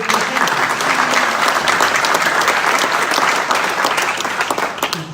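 An audience claps at a county Democratic Party dinner, dense enthusiastic applause filling the room at steady volume before beginning to taper off at the end.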